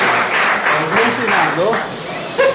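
Audience applause at a Hindi poetry gathering and book launch rises and falls under a man's continuous speech. The clapping stays in the background behind the talking voice.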